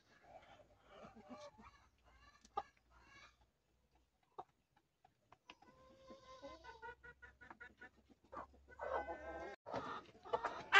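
Village chickens on a small egg farm clucking close by in scattered bursts, quiet at first and growing busier and louder toward the end, with no talk over them.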